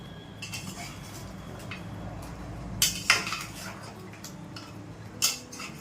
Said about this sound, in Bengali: এটা আমি দশ পনেরো মিনিট নাড়া দেব